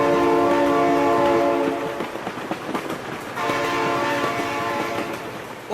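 In the BeamNG driving game, a train horn sounds two long, loud blasts separated by a short gap, over the rumble and clatter of the passing train.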